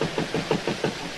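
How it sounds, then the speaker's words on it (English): An old boat's diesel engine throbs steadily at sea in Vigo Bay, its low pulsing beats repeating about every sixth of a second, moderately loud and alone with no voices. "the uncertain throb of her engine made us dubious"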